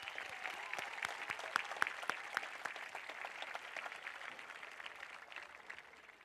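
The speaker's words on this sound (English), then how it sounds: "Let's give them a big round of applause." An audience applauds at a high school graduation ceremony, many hands clapping in a dense, sustained patter with some sharper individual claps, slowly tapering toward the end.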